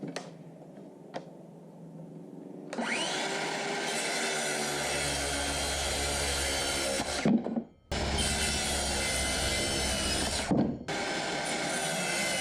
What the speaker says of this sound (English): I just batch cut these the same length because they all tuck under